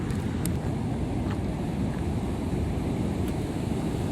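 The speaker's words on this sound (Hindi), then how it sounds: "बारिश को 2 दिन हो चुके हैं, के बावजूद भी पानी का जो बहाव है वो काफ़ी ज़्यादा है।" River water flows strongly at Nari Gaj two days after rain, a loud, even rushing wash that holds steady throughout with no voices.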